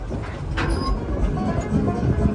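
The Dollywood steam train rolls along its mountain railway in a steady, dense low rumble of wheels and carriages, heard from on board, with a voice speaking over the noise.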